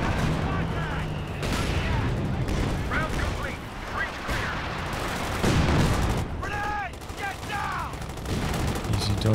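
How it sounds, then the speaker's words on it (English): Artillery and indirect fire boom and crackle almost nonstop in a Company of Heroes 2 battle, with repeated explosions and gunfire over dense mechanical battle noise and a voice talking throughout. "dodge all sorts of indirect fire in the center"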